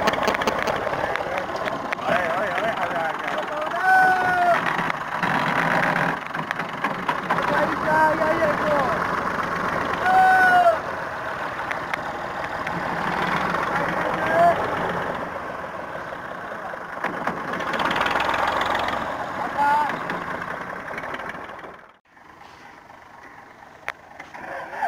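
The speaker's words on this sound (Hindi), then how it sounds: "देख सकते हैं रूसी ट्रैक्टर बाकट वाला ट्राली भर रहा है।" Russian tractor with a bucket loader filling a trolley, its engine running steadily and revving under load for most of the stretch, close and fairly loud, easing off near the end.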